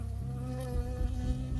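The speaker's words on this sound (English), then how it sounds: "I got stung by a bee." A bee buzzes close in the video game Firewatch, a steady insect drone over a low rumbling game ambience.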